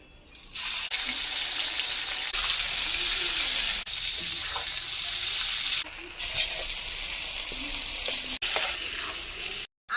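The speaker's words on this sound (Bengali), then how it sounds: "তেল গরম হয়ে গেছে, এবার চিংড়ি মাছগুলি ভেজে নেব।" Prawns frying in mustard oil, a loud close sizzle broken by brief pauses and scraping stirs, the hiss surging back after each interruption, with no speech.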